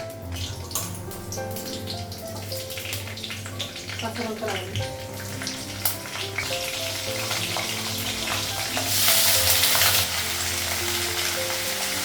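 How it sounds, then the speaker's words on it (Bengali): Steady sizzling of okra and water spinach frying in a pan, with stirring scrapes and a brief louder hiss near the end; a musical tone hums underneath throughout. "ঢ্যাঁড়সটা ভাজা হয়ে গেলে কলমিটা ভাজা করবো"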